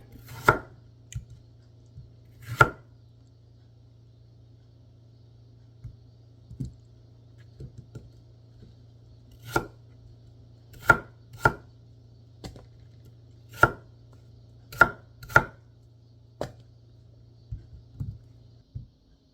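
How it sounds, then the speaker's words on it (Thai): Irregular knife chops on a cutting board while an apple is cut into bite-size cubes, some strikes louder and some faint, spaced unevenly and heard up close in a quiet room. "นี่หั่นเป็นลูกเต๋าพอดีคำ"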